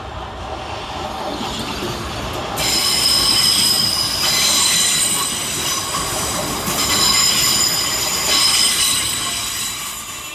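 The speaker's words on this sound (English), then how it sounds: "Next in to arrive is 375906, with the 1245 Southeastern service of Dover Priory to London Charing" A Southeastern class 375 electric train, unit 375906, pulls into London Waterloo East station, its wheels squealing loudly in sustained high-pitched bursts over a rumbling rail roll, with no voices.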